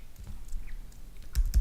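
Quick typing on a computer keyboard while a web address is entered, a short run of soft clicks ending in a couple of louder keystrokes.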